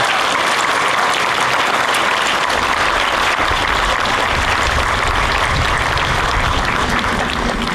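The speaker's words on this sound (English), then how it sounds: "Can we get a round of applause for everybody here?" Loud, sustained applause from a sizable crowd, steady clapping throughout with no speech over it.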